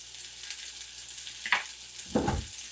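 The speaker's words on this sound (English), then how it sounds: "Give that a quick stir." Sauce is stirred in a hot frying pan: a constant soft sizzle broken by two brief, louder scraping strokes of the spoon, close by and with no voices.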